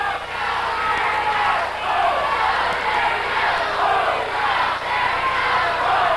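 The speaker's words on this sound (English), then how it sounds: "the fans are yelling for Terry Garvin" Wrestling arena crowd yelling and chanting in support of Terry Garvin, loud and continuous with rhythmic surges of massed voices.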